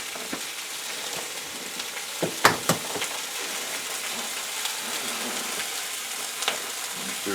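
Pork roll and a sunny side up egg frying in butter in a pan make a soft, steady sizzle close by, with a few brief clinks and scrapes of handling partway through.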